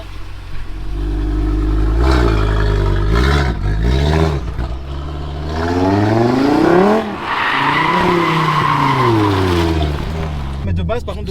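Audi RS3 8Y from 2023 drifting, its tires skidding and squealing in long wavering screeches over a loud engine roar across the clip, near and strong.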